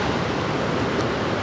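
River water flows down through the Punchbowl on the Mar Lodge Estate in Scotland, a steady, dense rushing wash heard close, with no break or voices.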